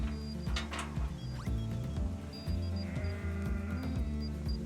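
Sheep bleat repeatedly at close range on a sheep farm during electronic tag reading, with overlapping calls, clattering mechanical handling noise and a few short high beeps.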